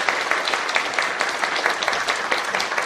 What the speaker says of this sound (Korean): 한번 잠깐 일어나서 박수 한번 해주시겠습니다